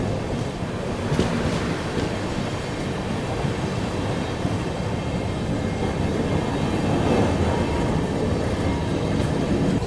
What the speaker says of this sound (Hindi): बाकी ट्रेन अपनी डिपार्चर ले चुकी है चेन्नई सेंट्रल से।